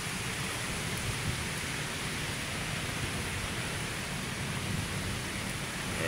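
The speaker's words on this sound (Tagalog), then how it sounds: "Lakas ng ulan." Steady, heavy rain pouring down at Manila Bay in a continuous dense hiss, with no voices and no breaks.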